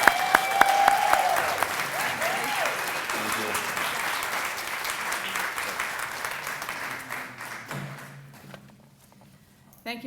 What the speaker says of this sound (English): So everybody give her a round of applause.